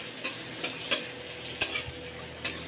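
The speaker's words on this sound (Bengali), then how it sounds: "কড়াইতে অল্প একটু তেল দিয়েছি, তারপর শুকনো লঙ্কা 3টে দিলাম, এলাচ, তেজপাতা, জিরে, গোটা জিরে দিয়ে একটু নাড়তে হবে।" A spoon stirs dried red chillies, cardamom, bay leaf and whole cumin in a little hot oil in a kadai, giving a soft sizzle punctuated by four or five sharp scraping clicks against the pan.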